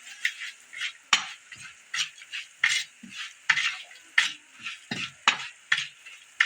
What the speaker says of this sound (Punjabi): ਇਹ ਮਸਾਲੇ ਨੂੰ ਆਪਾਂ 2 ਮਿੰਟ ਤੱਕ ਪਕਾਵਾਂਗੇ